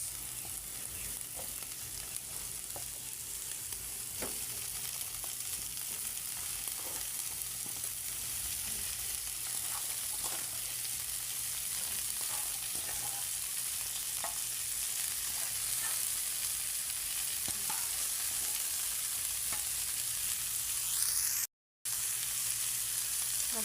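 Mixed vegetables sauté in a hot pan with a steady, even sizzle and crackle that holds throughout, close and moderately loud, with a momentary cut near the end.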